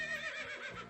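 Horse whinny as a short sound effect, a bright, wavering neigh with no voices, running the whole brief moment at moderate level.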